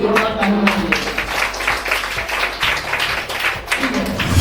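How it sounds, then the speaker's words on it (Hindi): An audience at a Teachers Day celebration claps in dense, continuous applause, with voices mixed in underneath the crowd noise. "इसके लिए एक बार और तेरे दिल से जोरदार ताली बजाइए।"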